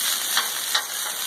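Shrimp sizzles on a Blackstone flat-top griddle alongside fried rice, a steady close crackling hiss with two brief louder spatters, no voices.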